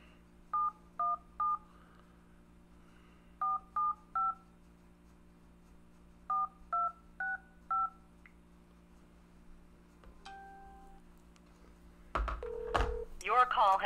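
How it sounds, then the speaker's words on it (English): A telephone number is dialed as keypad tones in short clusters of two to four beeps, clear and close, followed by ringing and noisy line sounds at the end. "So give me a second to dial her number here."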